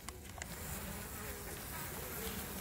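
Honeybee colony buzzing on four or five hive frames during a hive inspection, a steady dense hum close up with a few brief clicks at the start and no speech.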